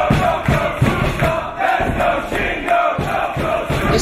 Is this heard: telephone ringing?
no